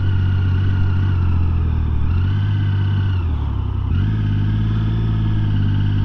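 A six-cylinder motorbike with a light clutch, heard while riding, giving a loud, steady close engine drone whose pitch drops and rises twice as gears change.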